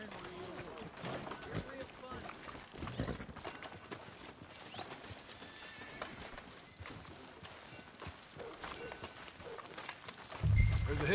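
Horse hooves clip-clop at a walk in the video game Red Dead Redemption 2, soft and steady under ongoing character dialogue, with a brief low thump near the end.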